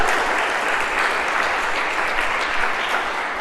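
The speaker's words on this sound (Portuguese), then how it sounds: "Sai um aplauso para Jesus por essa palavra" A church congregation bursts into dense, sustained applause, many hands clapping together in an even, loud wash with no pauses and no voices on top.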